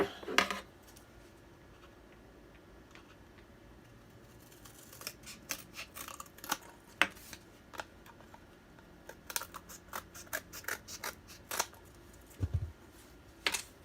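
Scissors cutting through fabric for a smartphone or tablet cord wrap project, a quiet opening followed by a series of crisp, close snips that come in uneven bursts, with no speech.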